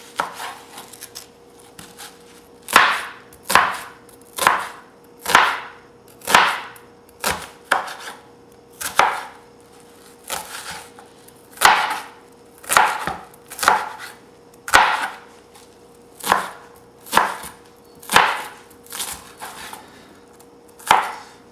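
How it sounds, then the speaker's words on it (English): An onion chopped in a manual dicer for meatloaf, a long series of sharp, evenly spaced chops and clacks repeating about once a second, close and distinct with no voices. "I rather throw it in the dicer and get it to really small pieces"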